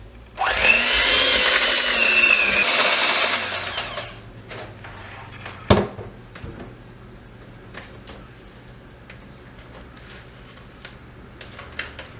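An electric hand mixer beats cinnamon roll cheesecake batter, with vanilla extract just added, in a loud, steady whir for about four seconds before it stops. A sharp knock follows, then quiet kitchen handling noises.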